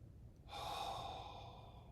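A long, slow exhale during a chair yoga breathing exercise: a soft breathy rush starts after a brief pause and fades gradually over more than a second, close and faint, with no talking.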